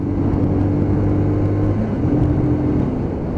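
A Lexmoto LXS Euro 5 motorcycle accelerates through its 6-speed gearbox, the engine droning loud and close with harmonic whine that drops briefly at a gear change, then climbs on again.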